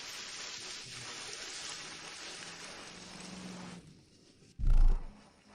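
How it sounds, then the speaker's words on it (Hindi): Heavy rain falls in a steady broadband wash for several seconds, then thins out before a short loud thump near the end; no voices. "इतनी बारिश हो रही है"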